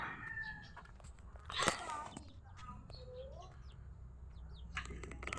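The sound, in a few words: chicks peeping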